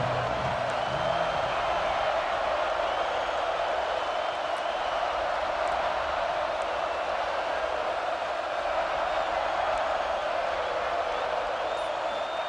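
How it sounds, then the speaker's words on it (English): A large football stadium crowd at Michigan's Big House keeps up a steady, dense roar and murmur throughout, loud and continuous with no distinct peaks. "This crowd ready to make its presence known."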